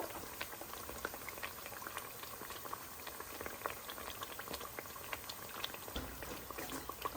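Parippu vada, crispy lentil fritters, frying in hot oil, a dense continuous bubbling sizzle with fine crackles, steady and fairly faint, with no one talking.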